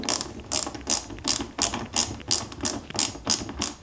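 A small screwdriver ratchets with rapid, regular clicking bursts while two screws are driven into the lower gearbox casing of a Peugeot 205 GTI 1.9 scale model, close and steady, with no voices.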